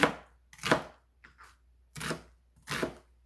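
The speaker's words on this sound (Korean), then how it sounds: "양파 중간 크기 한개 썰어줄게요" Knife chopping through a medium onion on a cutting board, four solid thuds with a brief crunchy rustle between, close and clear with no talking.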